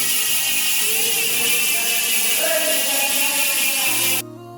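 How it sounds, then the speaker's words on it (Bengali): The rear hub of a budget freestyle stunt bicycle spins freely, its rapid ticking merging into a loud, continuous high buzz that cuts off abruptly near the end. "আর মুবিনের সাইকেলের হাবের সাউন্ডটা"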